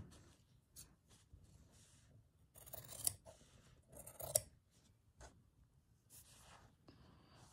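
Scissors trim the fabric of a shabby chic Japanese rice bag, making repeated close, quiet snips and rasping cuts in uneven bursts, with two louder crisp snips midway and no talking.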